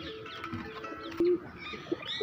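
Madrasi pigeons at a bird market give short low coos, one clear coo in the middle and a brief one near the end, among faint chirps and background bustle.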